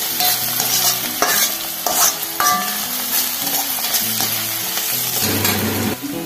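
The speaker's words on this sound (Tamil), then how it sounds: "வெங்காயம் நல்லா வதங்கிடுச்சுங்க." Onions sautéing in a pan, a loud, close sizzle with frequent scraping and stirring strokes and occasional light clinks of the utensil against the pan.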